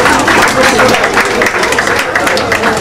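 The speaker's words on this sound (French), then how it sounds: "Applaudissez pour vous-même." Loud, close applause from an audience at a Congo River cultural event in Belgium, a thick continuous roar of clapping with crowd voices mixed in.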